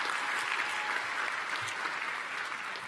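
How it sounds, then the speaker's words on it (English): A convocation audience claps continuously as a dense, even wash of applause from many hands, filling the hall at a steady level throughout. "I'm going to talk through applause"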